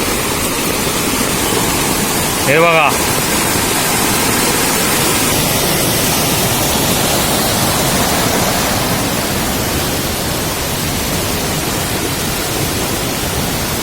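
Flood water in a swollen stream rushing under a bridge after heavy rain in Konkan gives a loud, steady roar with no break. A voice speaks briefly near the start.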